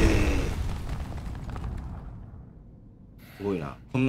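A broad explosion blast in Resident Evil 2 (RE2) booms at the start and rumbles away into a low fading roar, followed by a brief quiet, then a couple of short bursts of harmonic game sound near the end.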